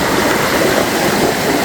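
Waterfall on the Guaxinduba river at Canta Galo, a loud, steady broadband rush of falling water filling the whole moment without pause, close by and with no voices over it.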